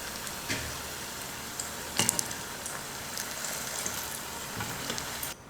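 Snacks deep-frying in hot oil bubble and sizzle steadily and close by, with a few sharper clinks and splashes breaking through the constant hiss.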